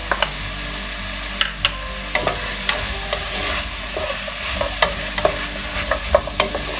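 Zucchini added to a pot of shrimp and vegetable soup and stirred: a steady sizzling simmer with repeated close scraping and clinking stirring strokes in an uneven rhythm, no talking.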